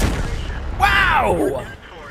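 A single tank cannon shot in World of Tanks, a loud boom followed by a sweeping, falling whine, with a voice talking in the background.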